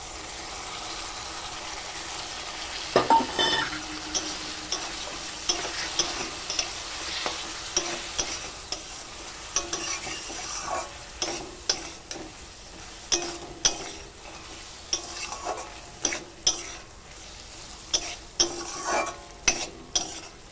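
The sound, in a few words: poppy seed and green chili paste frying with ridge gourd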